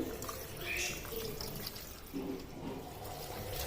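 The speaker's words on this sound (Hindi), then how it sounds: "प्रेशर कुकर में छलियाँ डालने के बाद अब इसमें पानी डाल देना है" Water pours steadily into a pressure cooker holding sweet corn, a continuous splashing rush, fairly close, with faint background noise throughout.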